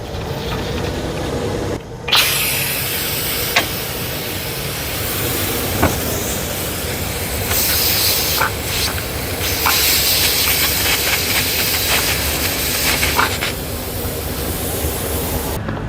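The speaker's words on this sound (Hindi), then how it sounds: "कुकर को ओपन करते हैं" A continuous loud hiss of steam escaping under pressure as a pressure cooker of potatoes is opened, with occasional small clicks and pops, running steadily the whole time.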